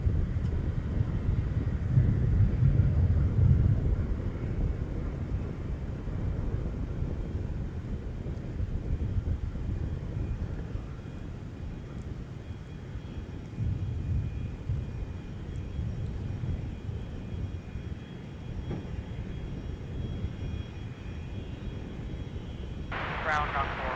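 A Gulfstream jet at MSP airport makes a broad, low, steady roar heard at a distance. Wind rumbles over the microphone throughout, and faint voices are mixed in.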